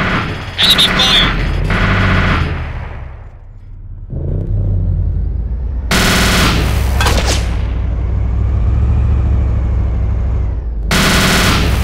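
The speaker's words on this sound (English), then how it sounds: "Enemy fire!" Loud bursts of enemy gunfire in the military shooter ArmA 2, rapid automatic volleys in several sharp clusters with rumbling vehicle noise between them and up close throughout.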